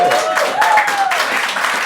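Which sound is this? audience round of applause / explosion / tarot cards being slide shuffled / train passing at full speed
audience round of applause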